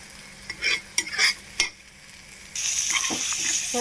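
Spicy Andhra egg paste curry stirred in a frying pan: a few sharp scraping strokes of a spoon against the pan, then a steady, bright sizzle that carries on to the end.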